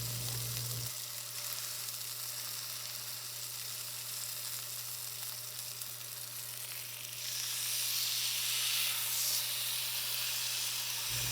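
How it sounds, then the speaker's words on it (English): Steaks searing in an oiled pan make a constant, close, loud sizzle and hiss that swells louder toward the end, with no talking over it. "And now we're going to let them cook in the pan for 2 minutes undisturbed."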